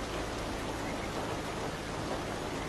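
Steady rain falls at night, a dense, continuous hiss of drops on surfaces with no breaks, alone and fairly loud throughout.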